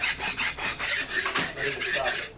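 A hand file is pushed back and forth across metal in about eight rhythmic, rasping strokes, close and loud, with no talking.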